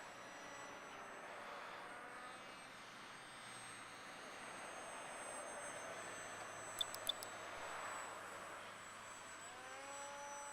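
A small radio-controlled airplane fitted with a gyro stabilizer flies straight and level, giving a thin, steady distant motor drone that swells and fades slightly. A few brief clicks sound near the middle, with light outdoor background noise.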